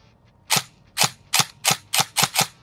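A Zion Arms R15 M4 airsoft AEG's shots striking a distant target, seven sharp snapping hits spaced roughly a third of a second apart, crisp and clear with no talking.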